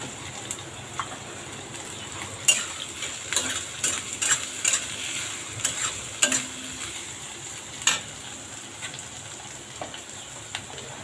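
Chopped vegetables and boiled corn sautéing in a pan, a low continuous sizzle under frequent metallic spatula clinks and scrapes in an irregular rhythm, close and fairly clear.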